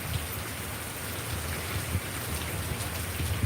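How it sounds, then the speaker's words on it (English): Steady rain falling throughout, a continuous dense patter with low rumbling texture, close and moderately loud with no voices. "I don't think it's supposed to rain long."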